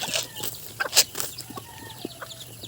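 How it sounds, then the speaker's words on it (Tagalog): Native chickens cluck in a short burst of calls with a louder squawk near the middle, close by, alongside soft wing rustles and no talking. "Update tayo sa ating mga alagang native chicken."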